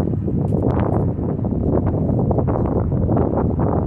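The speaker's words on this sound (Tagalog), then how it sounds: "malakas kasi ang hangin eh" Loud, continuous wind buffeting the microphone, a dense low roar with gusty rustling throughout and no clear voices.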